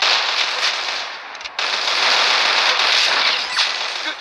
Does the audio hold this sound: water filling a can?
no